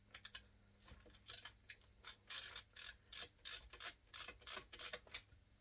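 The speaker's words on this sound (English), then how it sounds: "I want to get those Phillips head screws out of this fan right here." Craftsman reversible ratchet screwdriver backing Phillips head screws out of a fan, giving quick bursts of close, crisp ratcheting clicks in an uneven rhythm with short pauses between strokes.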